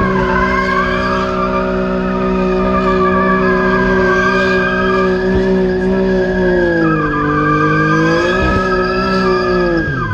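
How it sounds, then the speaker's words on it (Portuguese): BMW M4 spinning drift donuts, tires skidding and squealing continuously for the whole stretch, loud and close, with the engine note sweeping down and back up as the car circles. "eu quero ver se ela vai fazer donuts"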